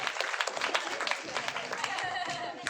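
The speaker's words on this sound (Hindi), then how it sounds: "ताली, शाबाश।" An audience at a community foundation-day event breaks into brisk, dense applause, a fairly close crowd of hands clapping steadily throughout.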